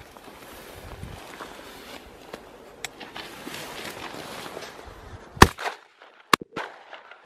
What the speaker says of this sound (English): see if he can get close enough and have a shot